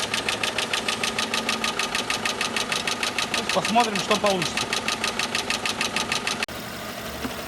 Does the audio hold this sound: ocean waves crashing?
no